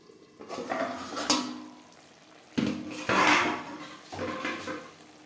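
A pot of bean seeds being covered with a lid on a gas stove, with several clattering metal knocks and scrapes in separate bursts, close by with no talking.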